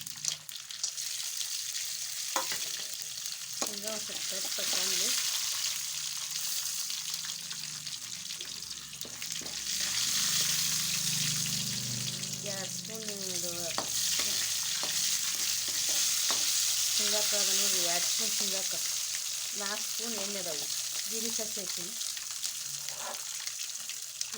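Peanuts and raw potato sizzle in hot oil in a pan for a chapati upma, a continuous close frying hiss. Occasional stirring scrapes cut through, and faint voices are heard in the background.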